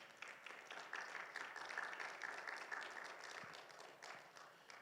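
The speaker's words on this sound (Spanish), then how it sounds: "Vamos a dar un fuerte aplauso al Señor" Church congregation applauding the Lord during a Spanish-language Bible class, a steady wash of many hands clapping for about five seconds at moderate level, with no voices over it.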